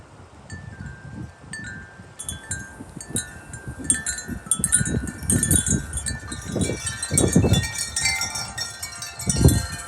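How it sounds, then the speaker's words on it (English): A big gust of wind rushes through trees on a windy night, swelling into a loud, broad roar toward the end, while wind chimes ring and tinkle steadily throughout. "I can hear a big gust right here through these trees."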